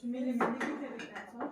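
Forks and dishes clink and clatter as they are brought to a home breakfast table, with a few sharp metallic chinks heard close by while someone speaks over them.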